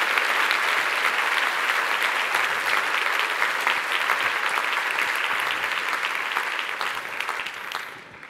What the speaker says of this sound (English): gave the Clio team a round of applause for the work that went into the new Clio experience